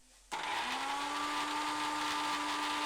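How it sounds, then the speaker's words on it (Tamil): A kitchen mixer grinder whirs into life after a moment of quiet, grinding coconut, cumin and garlic with a steady, loud, high motor whine that holds to the end. "இப்போ அந்த தேங்காய் ஜீரகத்தை அரைச்சிக்கலாம்"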